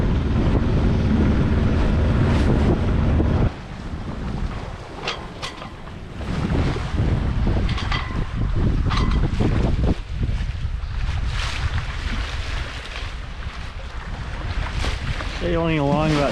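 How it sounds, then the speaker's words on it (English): Wind rushes loudly across the microphone aboard a sailboat crossing the Strait of Georgia, a steady roar that drops after a few seconds and continues with water noise and brief knocks, while a faint voice speaks. "the wind is picking up noticeably"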